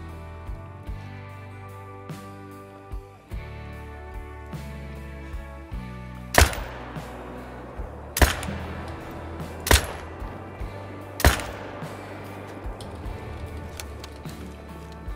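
Hunting rifle shots in Call of the Wild hunting a red deer herd at a lake: four loud sharp cracks spaced a couple of seconds apart, following quieter ambient clicks and outdoor background.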